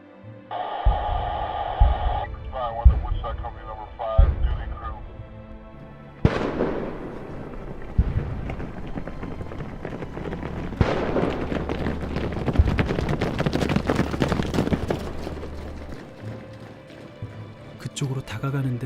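Rumbling roar effect in a Korean audio drama, a deep, sustained low rumble swelling with noisy crackling and debris-like clatter over several seconds, layered with other scene sounds.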